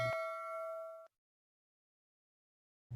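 A notification bell sound effect rings once with a bright, clear ding that holds for about a second and then cuts off into silence.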